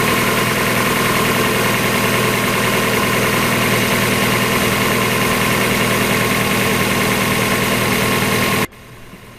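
A 1994 Mazda Miata four-cylinder, freshly fitted with a new timing belt, water pump, radiator and hoses, idles loud and steady up close, with an even, continuous hum until it cuts off abruptly just before the end.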